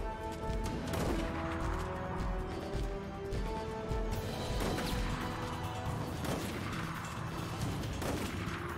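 Gunfire in Resident Evil: Operation Raccoon City comes as repeated sharp shots and crashes over a dense, loud game soundscape, sounding continuous and busy throughout.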